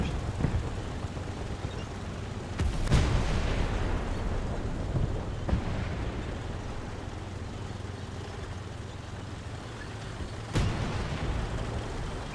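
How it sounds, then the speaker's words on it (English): Tank cannon fire in the War Thunder combat game, a few heavy booming blasts at irregular intervals over a continuous low rumbling battlefield background. "we almost have a tank shooting right off here, right below us"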